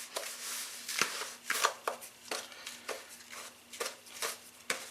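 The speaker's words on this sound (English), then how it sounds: "So again, I just mix it by hand." Chili and clumpy brown sugar for turkey tots mixed by hand in a bowl give soft, close squishing and pinching pats in an uneven rhythm, fairly quiet over a faint low hum.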